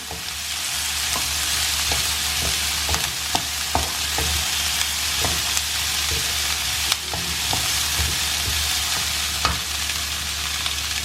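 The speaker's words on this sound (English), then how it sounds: "You'll have to just stir it for half a minute." Beetroot rice being stirred in a frying pan, with a steady loud sizzle and frying hiss throughout and repeated light scrapes and taps of the spoon against the pan. No one speaks.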